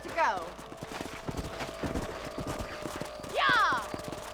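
Steady clip-clop of horse hooves while riding in Red Dead Redemption on a ranch, with two loud whinnies at the start and near the end, under a man's speech.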